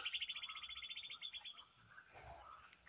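A magpie robin sings nearby, a rapid trill of bright repeated notes followed by a few shorter whistled phrases, fairly faint against quiet surroundings.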